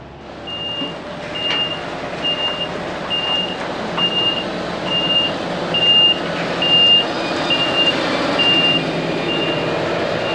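A truck backs up on a construction site at an amusement park, its reversing alarm beeping steadily about once a second, loud and clear over a low rumbling engine and site noise.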